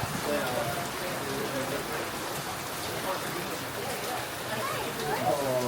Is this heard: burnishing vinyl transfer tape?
no